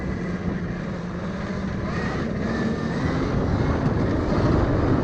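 Velimotor VMX12 motorbike accelerating in second gear, a loud steady engine drone rising gradually in pitch, heavily buffeted by wind rumble across the microphone, with no voices.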